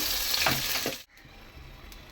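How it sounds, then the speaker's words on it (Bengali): Fish frying in a pan in a home kitchen gives a loud, steady sizzle with bright crackling bursts, then drops briefly before a quieter sizzle resumes. "এই যে মাছ ভাজা বসিয়ে দিয়েছি"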